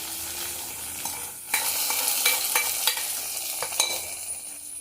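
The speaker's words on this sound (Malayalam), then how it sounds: "ഉള്ളി ബ്രൗൺ കളറാകുമ്പോൾ അതിലേക്ക് ഉണക്കമുളക് ഇട്ട് കൊടുക്കുക. കറിവേപ്പിലയും ഇട്ട് കൊടുക്കുക. ഇനി ഇത് നമുക്ക് സാമ്പാറിലേക്ക് ചേർക്കാം." A tempering of browned onion, dried red chilies and curry leaves sizzles in hot oil for sambar, a bright crackling fry that swells partway through, with a few sharp clinks of stirring and no voices.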